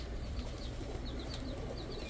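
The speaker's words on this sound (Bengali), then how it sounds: "এটা হচ্ছে আপনার নর কবুতর।" Soft, low cooing of a male pigeon repeats a few times against a quiet, muffled background, with no voices present.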